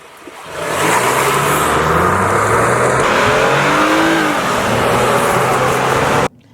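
A 3.8-liter V6 SUV in sport mode launches hard off the line, engine note rising loud and close as it accelerates over several seconds, with a faint tire squeal and no talking.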